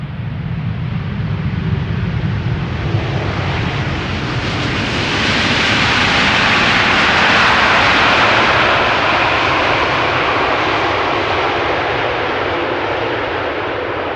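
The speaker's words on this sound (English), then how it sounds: "7878 Dreamliner returning from Philadelphia to Amsterdam, 3 years old" A three-year-old American Airlines Boeing 787 Dreamliner arriving at Amsterdam Schiphol from Philadelphia produces a loud, sustained jet roar that swells as it passes close overhead and then slowly fades.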